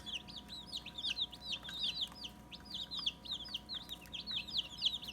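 Day-old Hoover's Hatchery dual-purpose chicks peep continuously in a busy, overlapping chorus of quick, high chirps, soft and fairly close, with a low steady hum underneath.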